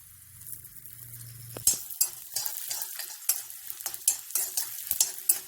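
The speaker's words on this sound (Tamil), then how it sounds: "உளுந்தம்பருப்பு நல்லா செவந்து வர வரைக்கும் வறுக்கணும்." Urad dal fries in hot oil while a spoon scrapes and clinks against the pan in quick, irregular strokes over a soft steady sizzle, after a brief low hum at the start.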